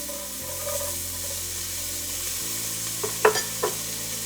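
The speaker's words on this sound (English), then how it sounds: "I'm just gonna push this around in the pan until it's nice and soft" Diced red onion sizzles in a pan with cooked pork, a steady frying hiss broken by a few scraping stirs and light knocks toward the end.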